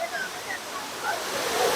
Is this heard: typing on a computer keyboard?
no